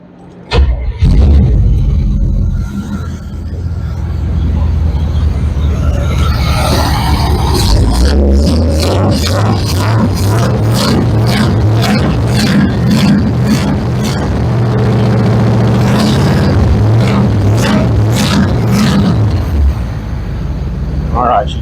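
A car engine fitted with a Holley Sniper fuel system cranks and catches loudly, then settles into a rumbling idle with some blips and uneven chugging, close by, with people talking over it.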